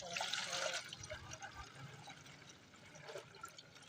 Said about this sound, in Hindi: ये 1 लीटर मैंने पानी इसमें ऐड कर दिया।